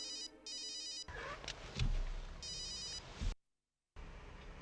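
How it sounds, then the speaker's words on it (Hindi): A telephone rings in short electronic trilling bursts, with a brief pause between rings, against faint room noise. "तेरा फोन बज रहा है।"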